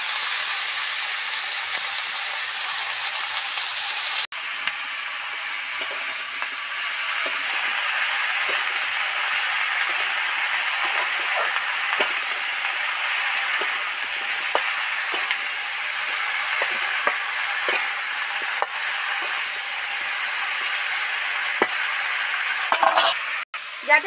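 Fig pieces and tomato chunks fry in a pan in a village-style kitchen, giving a steady close sizzle with occasional scrapes and taps of stirring over about twenty seconds.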